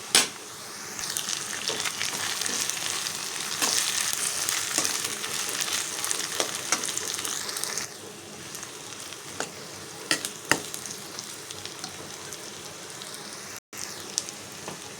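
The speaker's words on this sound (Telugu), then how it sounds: "ఒక నిమిషం బాగా ఫ్రై అవ్వనిద్దాం. అల్లం వెల్లుల్లి పేస్ట్ కూడా 1 స్పూన్ వేసుకుందాం." Ginger garlic paste sizzles and crackles in hot oil for a gongura egg curry, a loud continuous frying hiss with occasional stirring clinks.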